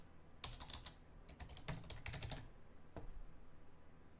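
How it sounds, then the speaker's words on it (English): Keys on a computer keyboard are typed in a few quick bursts of clicks with short pauses between them, close and fairly quiet, with no voices. "I want you to type in government."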